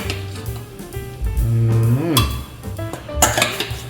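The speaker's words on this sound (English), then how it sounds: "I'm adding fruits into the blender like so." Chunks of pineapple, mango and ginger dropped into a blender jar: a few soft thuds and clinks against the container, close and moderately loud, with a clearer clatter near the end.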